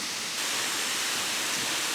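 Jeju Island's second waterfall roars as a loud, dense rush of falling water, filling the scene without pause.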